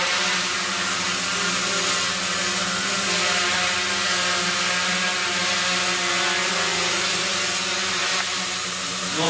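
Quadcopter drone flying in autonomous mode, a loud, continuous whining rotor buzz that stays close and steady for the whole stretch, with no talk.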